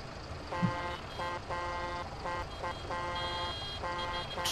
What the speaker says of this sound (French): Oh, le klaxon là-dessus.